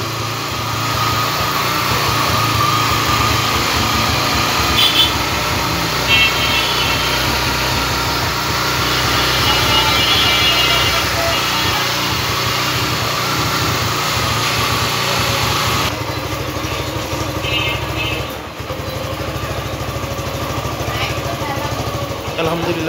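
A Suzuki motorcycle engine idles steadily just after starting, a continuous close rumble holding even loudness throughout with no clear talk over it.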